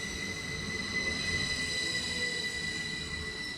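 Class 333 electric multiple unit 333 006, not refurbished, at Saltaire station: a steady rolling rumble with high tonal whine and faint wheel squeal, continuous and moderately distant, no voices.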